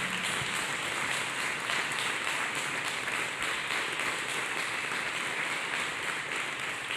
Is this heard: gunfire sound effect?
no